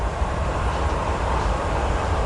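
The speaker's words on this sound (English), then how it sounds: "But we have an inbound freight in a Hobart right now." An inbound freight train passes at Commerce, a loud, steady rumble of rolling cars filling the scene without pause.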